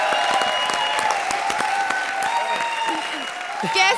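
Studio audience clapping on a Hindi comedy show, brisk and continuous, with a voice speaking briefly near the end.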